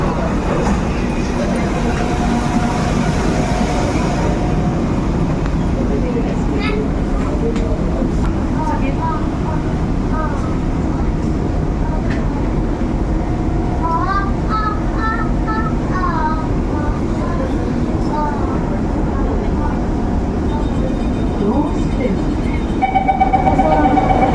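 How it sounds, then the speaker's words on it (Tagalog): Train ride toward the promenade stop near Gardens by the Bay in Singapore: a steady loud rumble and rail whine with rising tonal squeals mid-ride, people talking over it. "Yan ang train mga bro."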